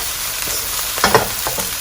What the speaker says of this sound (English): we'll add in 1 tablespoon of Shaoxing Huatiao or Chinese cooking wine. Just give it a good stir.